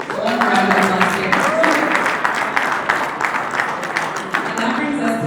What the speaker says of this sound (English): So one round of applause here